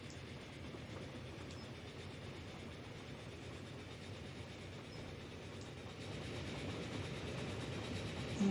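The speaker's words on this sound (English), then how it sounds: "It's starting to get into a decent sized train." Simulated train in Transport Fever 2, a steady low rumble of wheels on track with faint rhythmic clacking, growing slightly louder toward the end, no voices.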